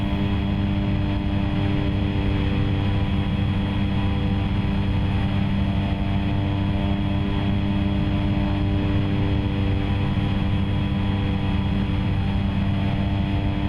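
A propeller plane's engine drones steadily in X-Plane 11, a constant tonal hum with layered harmonics that holds at an even, moderately loud level throughout with no speech.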